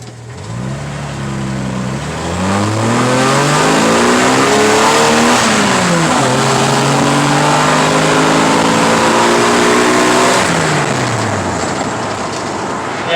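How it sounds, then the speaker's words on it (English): Ford 300 inline six engine with a wet nitrous plate accelerating hard in a car: loud, close revving that climbs steadily through gears, with pitch dropping at each shift before rising again, continuous for the whole pull. "I'll try and see if I can get a short little video of me doing a pull."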